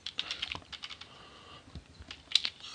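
Quick bursts of typing on a computer keyboard, irregular clicks and clatters near and fairly quiet, with brief pauses between runs of keys.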